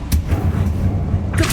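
Blasting spell cast in Hogwarts Legacy: a short burst with a loud, sustained low rumble and scattered crackles, followed by another sharp blast near the end.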